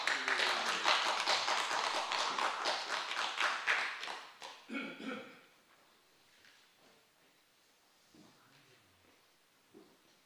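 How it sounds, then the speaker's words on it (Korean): An indoor audience claps for several seconds at a talk event, the dense applause tapering off into scattered taps and room noise. "박수 부탁드리겠습니다."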